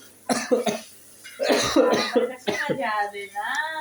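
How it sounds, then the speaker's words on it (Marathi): Several rough coughs in quick bursts from chilli fumes while making chilli thecha, close by, with a voice breaking in between and a drawn-out vocal sound at the end. "सगळा खोकला यायला लागला"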